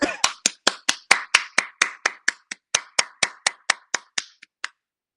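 Sharp, evenly spaced hand claps, about nineteen in a quick steady rhythm, ring out close and clear on a podcast recording, then thin out and stop near the end.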